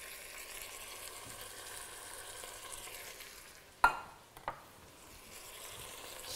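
Dried mushrooms stirred into a frying pan with a low steady sizzle underneath, broken by a sharp scrape and a second brief clatter of the utensil against the pan midway.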